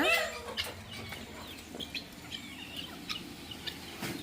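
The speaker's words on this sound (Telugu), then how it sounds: "కోళ్ళు వదలినప్పుడు ఇలా ఉంటుందండి" Chickens just let out cluck intermittently at a moderate distance, short scattered calls over a quiet outdoor background.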